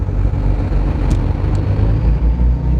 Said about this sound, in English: you'll see what happens when we throttle up